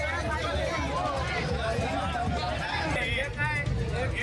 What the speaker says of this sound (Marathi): ढोलताशांच्या गजरात पार पडल्या तांबूत भेटीचा सोहळा बघण्यासाठी भाविकांनी मात्र मोठी गर्दी केली.